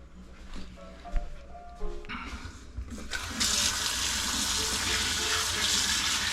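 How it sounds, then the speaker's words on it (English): Tap water runs steadily into a sink while hands are washed, faint clatter at first and then a constant close rush of water. "Wash my hands."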